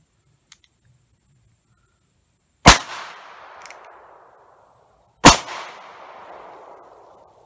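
Two sharp, loud gunshots from a Rohm RG 17 .38 Special derringer, a couple of seconds apart, each with a long decaying echo, preceded by a faint click, likely the light firing pin strike of a dud.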